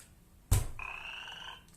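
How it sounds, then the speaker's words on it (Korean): An educational robot plays a short electronic frog croak through a small speaker, a single sharp thump followed by a brief, tonal croak that fades after about a second, with no talk. "아까는 개굴 울면서 점프를 동시에 했는데"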